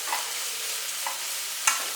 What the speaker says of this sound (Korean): 그래서 이렇게 수분이 날아갈 정도로 이렇게 볶아주시고요.